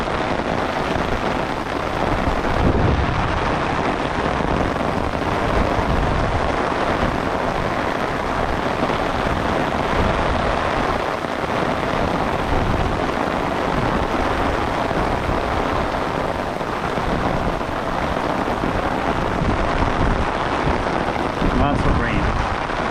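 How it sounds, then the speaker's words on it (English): Heavy storm rain pours down steadily and close, a dense continuous wash that holds for the whole stretch, with a person talking over it. "Now the rain is picking up."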